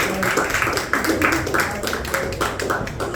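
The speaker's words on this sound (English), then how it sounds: "a round of applause for Mo and all the comedians" Audience applause at a live comedy show, a dense wash of clapping from a crowd, fairly close and steady over about three seconds with some voices mixed in.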